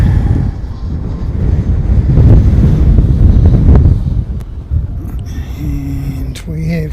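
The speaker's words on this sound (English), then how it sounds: "And we have 23 knots of breeze here." Strong gusty wind buffeting the microphone at an airport viewing mound, a loud low roar for several seconds that eases off, followed by brief speech.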